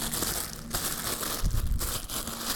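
Plastic bag crinkling and rustling while a SvBony SV174 2-7x32mm long eye relief rifle scope is unpacked from its foam-lined box, a close, steady papery crackle with a louder crunchy burst midway.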